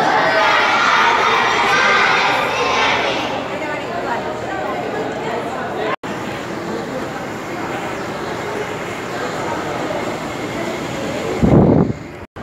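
A large crowd of pilgrims murmurs outside the Kaaba Museum during Umrah, a steady loud wash of many voices with some shouting, ending in a sharp louder burst.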